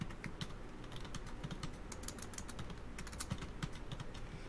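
Rapid keystrokes on a computer keyboard while a calendar event title is entered, a steady close-up clatter of clicks with irregular rhythm and no voices.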